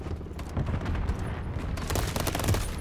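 Sentry gun fire in Call of Duty Modern Warfare 3 comes as dense, rapid automatic bursts, loud and close, rattling almost without pause for about three seconds.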